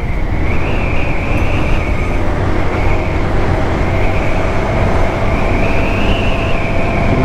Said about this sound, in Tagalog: Tapos kanina may dumaan dyan na tren, oh. Ang haba ng tren.